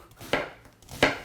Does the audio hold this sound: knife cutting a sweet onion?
yes